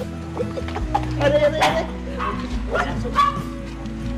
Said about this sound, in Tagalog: May aso dito, malaki.